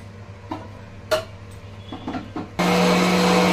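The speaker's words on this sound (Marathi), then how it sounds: "चला तर मी हे मिक्सरला फिरवून घेते" A kitchen mixer grinder spins up to grind semolina finer, starting as a loud, steady whirring drone after a few scattered clicks and knocks.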